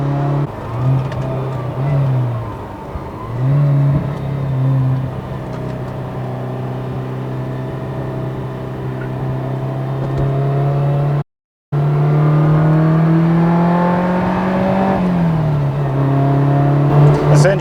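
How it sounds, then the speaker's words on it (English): A carbureted Ferrari 308 GTB engine drones while driving, its tubey exhaust holding a steady tone that rises and dips with throttle changes and briefly cuts out before resuming loud and close. "the carburetor sound and then the tubey exhaust, it sounds corny, but it's like an Italian symphony"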